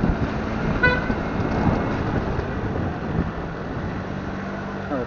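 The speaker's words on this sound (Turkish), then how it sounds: "Evet, trafik biraz kalabalık arkadaşlar." Busy road traffic in Marmaris, a steady loud wash of passing cars with a brief horn toot near the start, continuous throughout.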